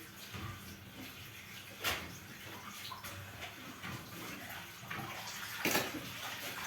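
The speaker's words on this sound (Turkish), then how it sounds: "Ben de şöyle patatesimizi yıkayıp soğuk sudan geçireyim." Potatoes washed under cold running tap water in a home kitchen, a steady splashing stream that continues throughout, with a few louder splashes as the potatoes are moved under it.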